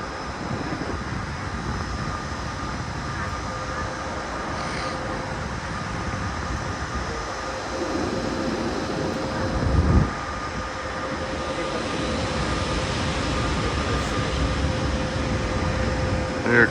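An electric multiple unit passenger train rolls into Budapest-Kelenföld station in Hungary, a steady broad rumble of wheels and traction hum with a slight swell as it nears, no talk over it.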